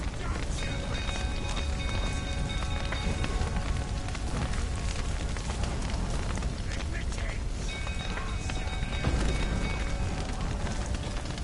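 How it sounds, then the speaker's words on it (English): Steady rain in The Witcher 3's Crookback Bog, a dense continuous hiss of falling water filling the whole scene at even loudness, with faint tonal game ambience layered in and no pauses. "Looks like rain."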